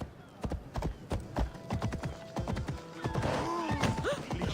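Horse hooves gallop in a rapid clip-clop rhythm through the Assassin's Creed Odyssey video game, loud and close, with game sounds and brief voices mixed in.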